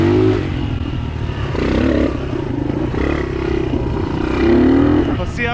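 A Honda Fat Cat motorbike from a barn find is ridden in first gear, its engine note rising and falling in labored surges; people talk over the close, rough engine sound throughout.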